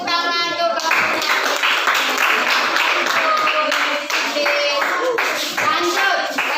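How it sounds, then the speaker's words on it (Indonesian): A group claps together in a lively burst of applause, with children's voices chattering and calling out over the clapping. "beri tepuk tangan untuk kelompoknya"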